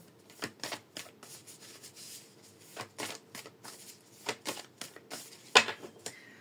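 Tarot cards being shuffled and cut by hand, a series of soft riffling flutters and light slaps in uneven bursts, close and fairly quiet, with no talking.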